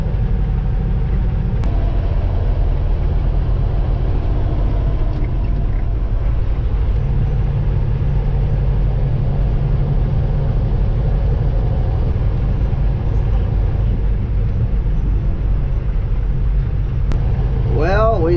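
A truck rumbles steadily along a small-town road early on a Sunday morning, a low continuous engine and road drone with someone talking over it throughout.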